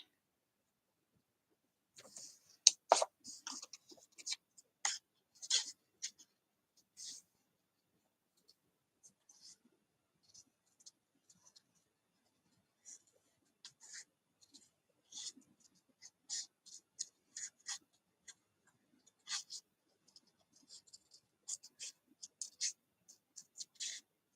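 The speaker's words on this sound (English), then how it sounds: "it's harder to maneuver your scissors around" Scissors snip through paper for a handmade card in quiet, irregular bursts of short crisp cuts with pauses between them, close and faint.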